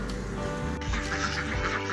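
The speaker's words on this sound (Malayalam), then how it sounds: "താറാവുകളൊക്കെ തുറന്നു വിട്ടിട്ടുണ്ട്" Ducks quack in a short cluster of nasal calls, a few overlapping, heard over a steady low background hum.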